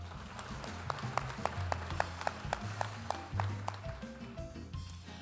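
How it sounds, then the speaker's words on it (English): Scattered, sparse clapping from a small crowd, quiet and uneven, fading out after a few seconds. "let's give her another round of applause"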